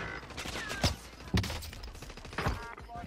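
Sharp gunshot cracks from a sniper rifle in Warzone, several separate reports spread across a few seconds, each with a short boom over quiet game ambience.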